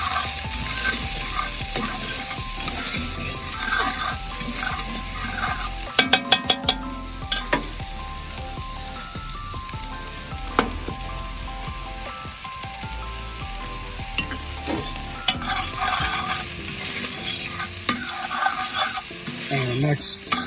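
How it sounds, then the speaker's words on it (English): Chorizo, jalapenos and onions fry in rendered grease on a PK grill for brisket pinto beans, giving a steady loud sizzle throughout, with scraping and clinking stir strokes bunched around the middle and again toward the end. "we're gonna add our jalapenos and onions. Give that a stir"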